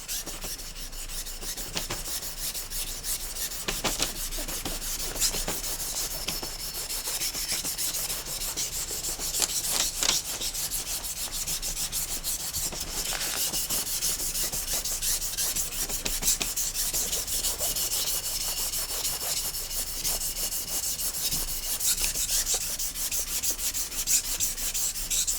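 A Stanley Bedrock 605 plane iron is rubbed back and forth on the fine side of a sharpening stone, a continuous gritty scraping in quick, even strokes, close and steady for the whole stretch with no talking.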